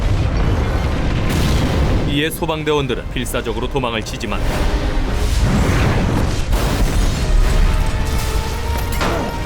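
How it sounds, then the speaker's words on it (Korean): Huge explosion at an underground fuel storage site, a deep booming roar and rumble under a narrator speaking Korean. "결국 전쟁터를 방불케 하는 엄청난 폭발이 일어나고 말아요"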